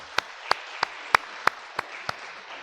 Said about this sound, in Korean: 찬양을 듣고 박수 소리가 하나님께 영광 올려드리는 건데 너무 적은 것 같아요